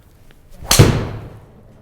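A fairway wood fitted with a TZP shaft strikes a golf ball outdoors, one sharp, loud, close impact followed by a brief fading ring.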